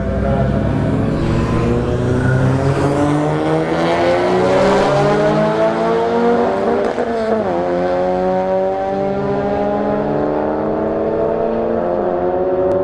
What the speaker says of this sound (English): All right, Golf GTI left lane, Acura RSX, RSX Type S right lane.